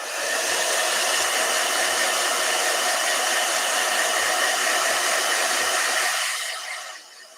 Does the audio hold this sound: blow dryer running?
yes